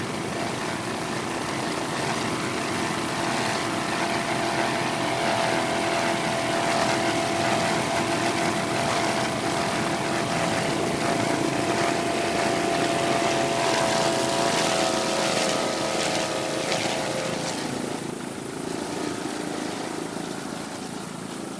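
Offshore superboats racing at the Key West world championship, their engines roaring in a steady, loud, continuous drone with a slight waver as the boats round a turn, no voices heard.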